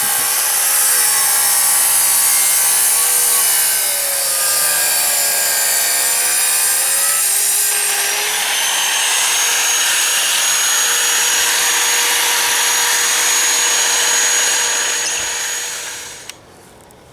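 A power saw cutting tile pieces for a jet tub deck, a loud, continuous high whine with shifting pitch as the blade bites, running steadily before spinning down near the end.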